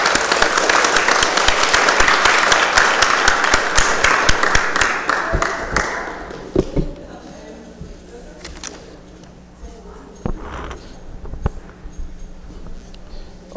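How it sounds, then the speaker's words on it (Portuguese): A room of people at a council meeting stand and clap for the national flag, a dense round of applause lasting about six seconds before fading into scattered claps and quiet room noise. "solicito a todos que em pé saudemos o pavilhão nacional com uma salva de palmas"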